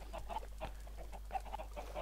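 Chickens in the Minecraft video game cluck in short, repeated bursts, moderately loud over a steady low hum, with no talking.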